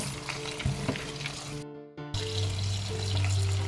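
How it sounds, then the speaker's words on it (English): Cool tap water runs steadily into a sink over pumpkin seeds being rinsed, a constant close hiss and splash that cuts out briefly, then resumes with a fuller flow. "We're going to turn on our cool water."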